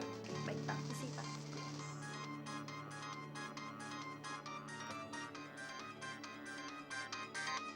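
A telephone ringtone rings steadily in a repeating pattern of bright electronic tones, loud and close, just before a private phone call during a work scene in an office.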